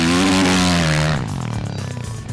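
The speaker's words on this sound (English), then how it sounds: "It's my passion, riding dirt bikes" A dirt bike on a track at Runway Park roars loudly nearby, its engine pitch rising and bending before fading into a rougher, lower rumble as it pulls away.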